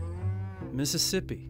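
Cattle on a Saskatchewan ranch give a couple of loud, close moos in quick succession, one deep call followed by a rougher, higher bellow, with a voice briefly speaking over them.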